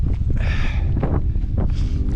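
Steady wind rushes and buffets the microphone on a sunny mountain ridge during a trail ultra run, with faint footsteps underneath and no talk.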